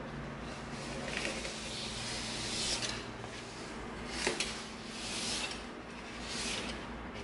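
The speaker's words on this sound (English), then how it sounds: "now we're going to begin cutting all of our straight edges with our box cutter" Box cutter blade slicing through EVA foam along straight marked edges for a gladiator helmet, a soft, faint scraping rasp that swells in gentle strokes, with a small tick near the middle, quiet and close with no talk.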